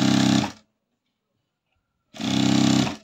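A sewing machine stitching a folded seam on a princess-cut blouse runs in two short, close bursts of steady motor hum and needle rattle, with a clear silent pause between them.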